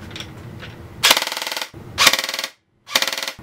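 Full-auto bursts from a G&G CM16 SRXL airsoft rifle on a partially charged LiPo: three rapid rattling strings of shots with short gaps between, loud and close, the gearbox chattering at a high rate of fire.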